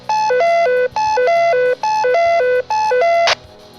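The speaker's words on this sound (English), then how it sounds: "overriding what the dispatcher was saying to cut him off mid-sentence with an alarm" A repeating electronic alarm tone plays over a cab's two-way radio, four bursts of a two-note beeping pattern with short gaps between them, loud and clear, then stopping abruptly.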